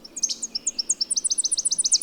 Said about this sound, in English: Tennessee warbler,